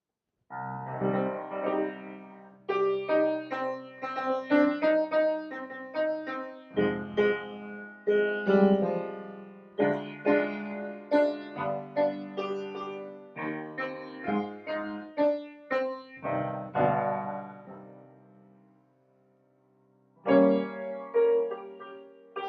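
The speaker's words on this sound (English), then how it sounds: "the evangelist, that tenor who's going to be singing in a style known as recitative" A solo tenor sings Baroque recitative as the Evangelist in J.S. Bach's music, in a free, speech-like rhythm with short phrases and pauses, resonant and moderately distant, without instruments.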